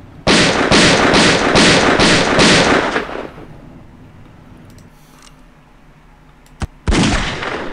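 Rapid gunfire in The X-Files Game, a loud close burst of about six evenly spaced shots, then a quieter stretch with a single sharp crack before another heavy volley begins.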